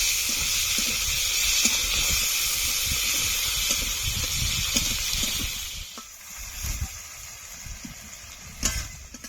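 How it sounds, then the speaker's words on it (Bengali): Chopped onions and tomatoes fry in hot oil for a Bengali rui fish curry, producing a steady broad sizzle and hiss with a few soft clicks and stirring bumps near the end. "পেঁয়াজ কুচি টমেটো কুচি এবার পেঁয়াজগুলো লাল লাল করে ভেজে নেব"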